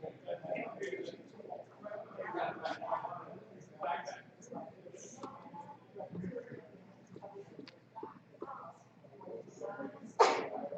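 People talk quietly for several seconds near the mouth of the Croton River, then a single sharp sneeze bursts out near the end, close and louder than the voices.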